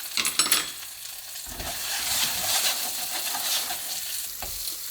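Pork tonkatsu cutlets sizzling in a non-stick pan for curry katsu, a loud steady frying crackle close up with a few brief scraping stirs, no voices.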